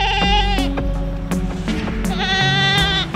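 Goats bleat loudly and close by, with several overlapping wavering calls in quick succession over a steady background.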